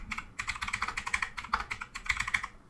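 Rapid keystrokes on a computer keyboard, a steady run of close, crisp clicks with brief pauses, no voices.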